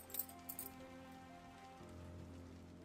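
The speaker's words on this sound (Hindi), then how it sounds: "बारिश थम गई।" Steady rain patters on a surface with a few brighter drip splashes near the start, settling into a soft, even background wash with a low hum beneath it, alone and with no voices.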